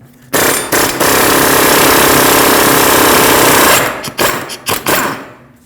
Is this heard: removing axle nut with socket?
yes